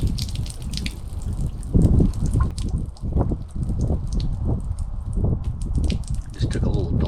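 Water gushes and splatters from a faucet as the hot line drains in a 2022 Keystone Montana RV being winterized, steady and close under low rumbling noise, with someone talking over it.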